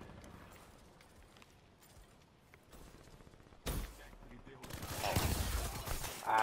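Gunfire from the Fenda E9 in Black Ops 3 arrives as loud bursts, a sharp blast near the middle and a sustained heavy volley at the end, with quieter game sounds beforehand.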